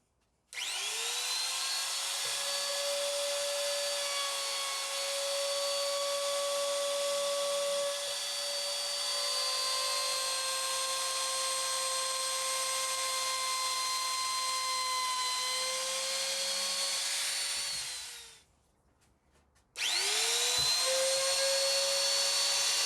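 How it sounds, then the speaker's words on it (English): A GFK600 palm router rounds over the edges of a sign, a loud high-pitched whining motor running steadily for nearly twenty seconds, winding down briefly, then spinning back up to full speed. "we're just going to go around the edges of the sign, put a nice little round over on it"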